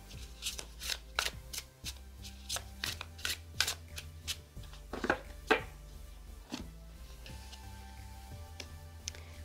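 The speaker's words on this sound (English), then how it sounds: "Let me go ahead and overhand shuffle." A deck of tarot cards with thin cardstock is overhand shuffled close up, producing quick bursts of crisp slapping and riffling clicks in an irregular rhythm, with quieter pauses between handfuls.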